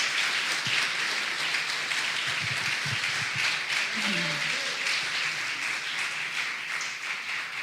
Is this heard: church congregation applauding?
yes